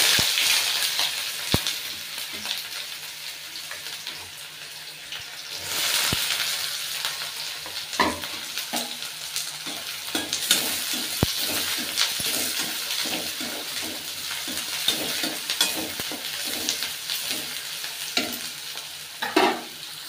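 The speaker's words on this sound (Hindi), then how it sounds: "इसमें हम प्याज डाल रहे हैं" Onions fry with cumin seeds in a pan, a close steady sizzle with frequent scraping and stirring clatters throughout, no talk heard.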